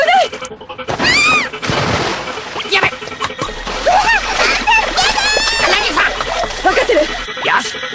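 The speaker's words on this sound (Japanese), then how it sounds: "一気にバシャンと川に。" A person falling into a river makes a sharp splash, followed by sloshing water, mixed with lively voices talking and shouting over it.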